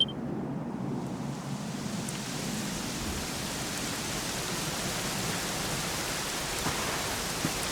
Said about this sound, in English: it was raining like this the last time I ever saw her